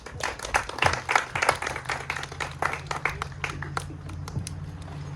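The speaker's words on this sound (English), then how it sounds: "So a round of applause." A small crowd at a state funding announcement for Lime Hollow Nature Center claps in a round of applause. Individual hand claps are distinct and close, strongest early, then thin out over a low steady hum.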